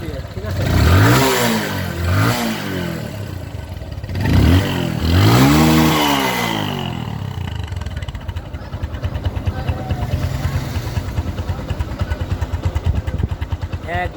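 A Bajaj Discover 135 motorcycle engine revs hard several times in quick succession, each blip rising and falling in pitch, close and loud, then settles into a steady idle with a rapid, even putter.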